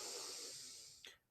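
A person breathes out through the nostrils in a hoarse, relaxed way during a restorative yoga session, a faint, steady airy rush lasting about a second with a brief snort-like puff at the end.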